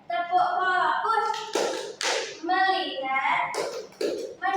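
Indonesian schoolchildren perform the 'tepuk fokus' chant in a classroom, voices singing in unison punctuated by sharp, rhythmic hand claps at regular intervals, with spoken chant words throughout.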